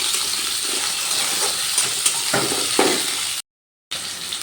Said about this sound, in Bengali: প্রথমে আমি এই সবজিগুলোকে একটু ভেজে নেব।